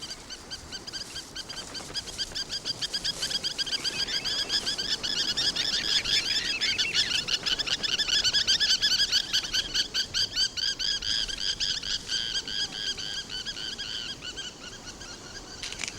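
A spur-winged plover defending its nest on a beach calls again and again, with shrill, rapid chirping notes that rise and fall in loudness and carry on steadily in the open air, with no voices.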